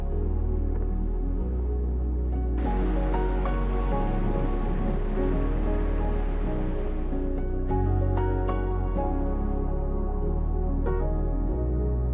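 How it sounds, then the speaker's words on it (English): Waves crash and surge against massive rocks on the Scottish coast, a continuous loud roaring wash with no voices. "we're still able to enjoy the crashing waves on the massive rocks"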